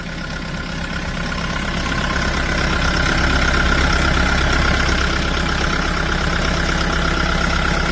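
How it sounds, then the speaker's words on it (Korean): An excavator's heavy diesel engine idles steadily and loudly after a fresh start following an oil and filter change, a continuous low rumble with a constant mechanical rattle and no voices. "네, 시동이 일단은 일발로 잘 걸렸습니다."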